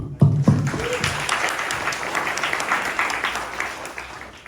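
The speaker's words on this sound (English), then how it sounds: "So, round of applause to you." Audience applause for a presenter after a live demo at a SwiftUI developer meetup in London, a dense steady wash of clapping from a crowd of about 200, loud and sustained with a few brief voices early on.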